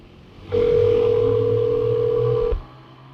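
A telephone sounds one steady electronic tone lasting about two seconds, loud and close, with no talk around it.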